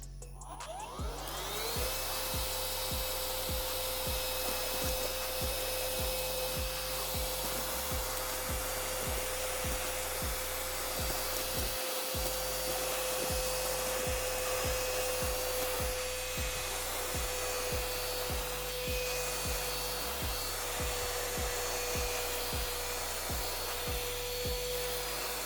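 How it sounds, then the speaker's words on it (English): A portable vacuum cleaner for car and home, fitted with a bristle attachment, runs with a steady whine across keyboard keys, with rhythmic brushing and rubbing against the keys throughout, close and continuous with no talking. "now I can easily clean off my keyboard keys without worrying about damaging them"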